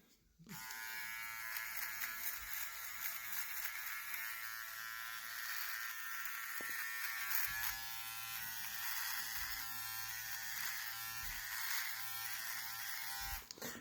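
A Philips OneBlade QP2734/20 trimmer runs steadily up close, a continuous buzzing electric hum holding for the whole stretch with only slight changes as it moves over stubble.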